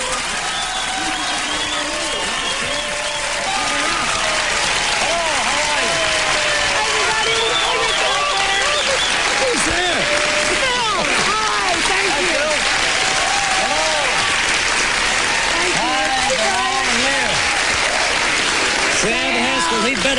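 Studio audience applauding and cheering on a live television talk show's farewell episode, a loud sustained roar of clapping with shouts and voices mixed in.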